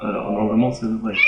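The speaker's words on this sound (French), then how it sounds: "Oh, il y a mon chat." A cat meows nearby, a short drawn-out call, while a person talks over it.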